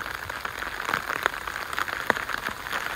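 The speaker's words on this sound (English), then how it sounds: "the rain continues to pour down" Heavy rain pours down in a woodland, a dense, steady patter of drops on leaves and ground, with sharper individual drips standing out close by.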